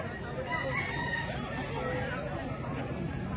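Gamecock roosters at a market in Lipa, Batangas, with a faint crow amid a busy murmur of people talking and bargaining nearby.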